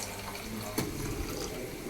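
Water is poured into a cooking pot while a vegetable curry is being made, a steady rushing splash lasting under two seconds with a short sharper spill near the middle, and no talking.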